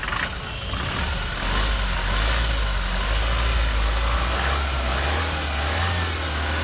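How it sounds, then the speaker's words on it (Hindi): A 2021 Toyota Innova Crysta, modified, with its engine running: a steady, fairly loud mid-pitched hum that holds throughout with a slight rise partway, with no talking over it. "एक बार सेल्फ मार के देखते हैं कि गाड़ी की मैकेनिकल कंडीशन कैसी है।"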